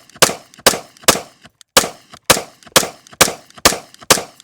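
A 9mm pistol fires about ten sharp, loud gunshots in a steady rapid rhythm, each a close crack with a brief decay and a short pause midway, and no talking.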